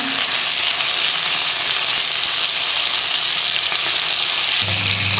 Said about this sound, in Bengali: আমি একটা একটা করে ভেজে নেব, একটা দুটো করে